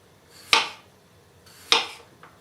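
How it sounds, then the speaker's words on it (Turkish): A knife slices thinly through small potatoes onto a cutting board, giving two crisp, close chops about a second apart and a fainter third tap, with no talking. "Şöyle ince ince doğruyorum."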